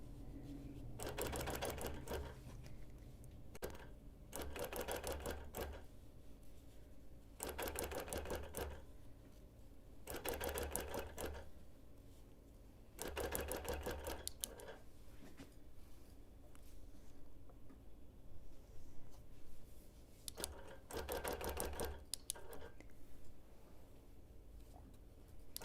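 A sewing machine free-motion quilts a hexie quilt, with several bursts of fast, rattling stitching of a few seconds each, separated by quiet pauses, at a soft level.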